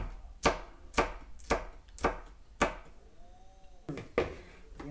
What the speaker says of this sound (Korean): 이 빨간 고추도 하나 이렇게 썰어서 똑같이 썰어서 넣으면